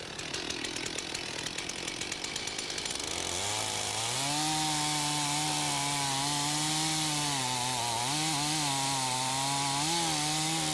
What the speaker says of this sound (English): The felling cut is again a plunge cut.